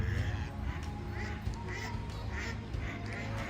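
Ducks gather on ice in a park on a mild day, giving repeated nasal quacks over a constant busy murmur. People talk nearby throughout.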